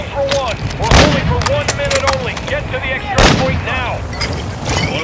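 Heavy gunfire in Call of Duty: Modern Warfare II DMZ, with loud booming shots near one and three seconds over ongoing battle noise, while voices talk over it.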